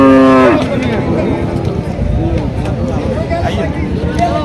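Cattle at the Chandimura cattle market in Comilla, with a loud, drawn-out moo up close at the start, then busy market noise and a crowd talking around the animals.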